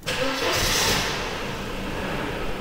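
A 120,000-mile Mercedes 190E with a rough-running fault cranks and catches, then settles into a loud, steady four-cylinder idle right up close.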